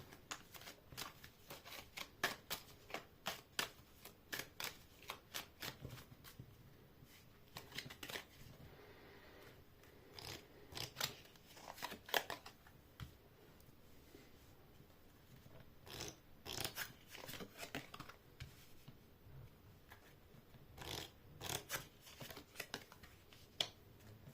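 Cards being shuffled again and again, quick riffling bursts and soft flicks in an irregular rhythm, close and fairly quiet.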